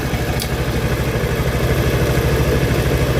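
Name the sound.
Honda Vario scooter engine running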